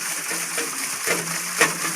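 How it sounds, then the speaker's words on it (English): Water splashes and trickles at an iced-up water wheel on a frozen beaver pond on a 19-degree morning, a steady close wash of water with a brief, brighter splash near the end. "the water wheel's iced up really bad"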